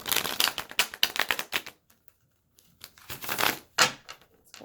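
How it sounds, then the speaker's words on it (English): Tarot cards are shuffled in quick riffling bursts, crisp flapping clatters near and loud, then a short pause before another brief round of shuffling. "Let's go ahead and get 2 more shuffles."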